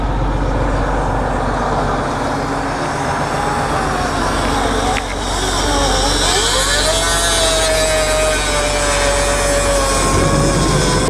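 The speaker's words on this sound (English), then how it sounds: "You got that little cutoff wheel stuff." An air-powered cutoff wheel runs off a trailer's air supply and cuts steel for a new flag pole, giving a continuous loud whine that changes pitch partway through, under constant machine noise and some talk.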